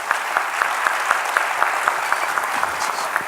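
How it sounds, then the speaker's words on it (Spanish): An audience at a forum on labour informality in Peru claps in steady rhythmic unison, a moderately loud beat of many hands with no talking. "Un aplauso,"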